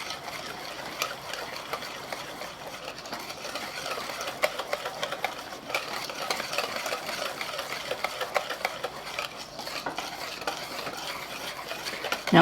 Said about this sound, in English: And now I'm going to add it to that egg yolk mixture. Stir that in really good.